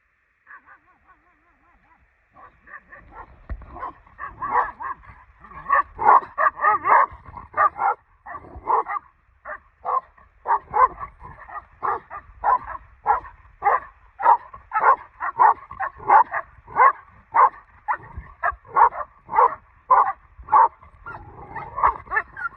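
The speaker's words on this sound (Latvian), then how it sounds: "Man uzbruka suņi tā kā." Dogs in northern Spain barking and yipping repeatedly at close range, a long run of sharp, rhythmic barks with occasional whimpers and faint human voices mixed in.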